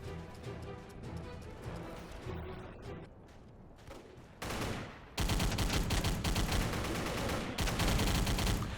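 Video game battle with artillery and gunfire, dense rattling bursts of shots that swell to a loud, continuous barrage of explosions and rapid fire in the second half.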